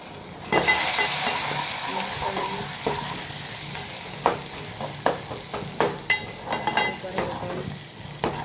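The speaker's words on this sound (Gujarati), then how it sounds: "હવે આપણે એમાં નાખીએ હિંગ, આચાર મસાલો, મરચું, ટામેટાં અને લીલા મરચાં એડ કરી દીધું છે." Hing, achar masala, chilli, tomatoes and green chillies hitting hot oil in a pan for a tempering, giving a steady close sizzle with repeated stirring scrapes and clinks toward the end.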